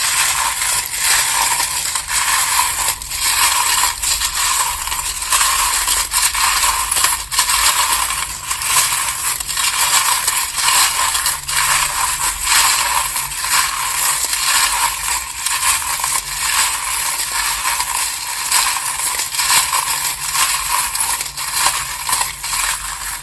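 Tarot cards shuffled continuously for over twenty seconds, a dense, steady papery riffling and crisp card-flicking texture with frequent small snaps and slaps, close and fairly loud, with no talking.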